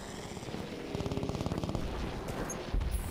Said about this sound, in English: Oh, there's planes. That's what's bombing me.